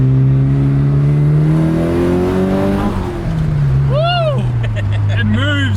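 A Toyota Chaser JZX100 with its 1JZ engine and Varex muffler revs hard up through the range, a loud, close, sustained engine tone climbing in pitch. Someone speaks over the end.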